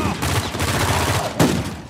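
Loud, rumbling blasts and crackling bangs from exploding mummies in the PS4 game Uncharted 4: A Thief's End fill the clip, with a sharper burst near the end.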